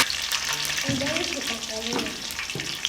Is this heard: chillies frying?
yes